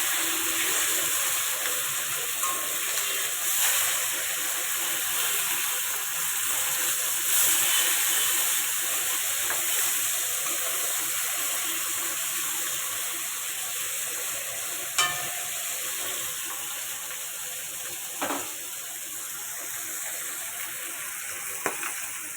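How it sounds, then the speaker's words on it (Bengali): Fish pieces sizzling steadily in hot oil in a pan while a fish curry is cooked, with a few sharp clinks of a utensil against the pan and faint spatter throughout. "মাছটা আমার ভাজা হয়ে গেছে, আমি তুলে নিচ্ছি একে একে।"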